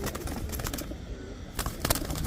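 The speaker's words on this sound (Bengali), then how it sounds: "কিন্তু দুটোটাই ছটফটে কবুতর ভাই" Restless club pigeons coo softly at close range amid rustling, shuffling and scattered clicks, the low calls faint under the busy handling noise.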